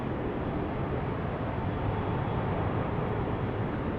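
An Airbus A321neo airliner departs Salt Lake City airport for Amsterdam. Its jet engines make a steady, even roar at a moderate distance, holding at one level throughout with no talking.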